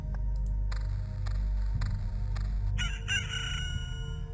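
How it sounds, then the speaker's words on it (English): A crunchy, distorted rooster crow from the video game Loop Hero: a string of clipped, harsh squawks that end in a louder, buzzy crowing burst, close and prominent over a low steady hum. "That was just like Ocarina of Time chicken sound, but it was crunchy."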